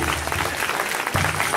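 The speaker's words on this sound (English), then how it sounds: "let's give them a round of applause" Audience applause at the Little Shell Tribe pow wow in Great Falls, a dense wash of clapping from a crowd that fills the whole stretch, steady and fairly loud, with a brief dip before it swells again.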